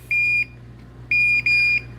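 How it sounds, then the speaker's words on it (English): A Klein or Ideal circuit breaker finder gives three steady electronic beeps, one, then a pause, then two close together, over a low constant hum. "It's going to beep a couple of times."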